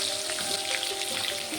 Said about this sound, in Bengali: ওই মাছ ভাজা তেলের মধ্যেই বেগুনগুলোকে ভেজে নেব।